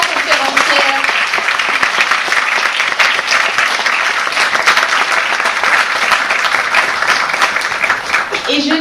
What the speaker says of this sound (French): Un grand tonnerre d'applaudissements pour ces trois conférencières